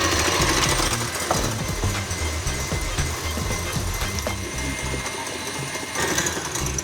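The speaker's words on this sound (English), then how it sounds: "So straight with the mixer on high." An electric mixer running on high whisks egg whites in a bowl, a fast rattling buzz with steady rhythmic beating that carries on close and loud throughout.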